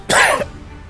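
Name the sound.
coughing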